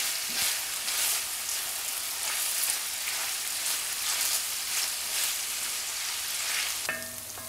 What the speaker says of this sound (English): I'm going to gently fry my onions until they're caramelised and golden brown.